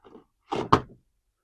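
A plastic trap door on a Masters of the Universe Origins Snake Mountain toy playset being moved, a light scrape followed by two quick clacks close up, then quiet.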